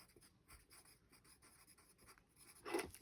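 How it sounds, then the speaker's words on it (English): A pen making small tally marks on a scrap of paper, a series of faint, quick scratches in short bursts, ending in a slightly louder stroke, close and quiet with no talk. "on your scrap piece of paper, you can make little ticks so that you know how many rows"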